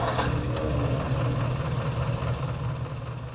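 A 1964 Ford 4000 farm tractor idling in Missouri, a steady low-pitched diesel chug with a continuous even rumble that sits close and loud for the whole stretch, with no voices.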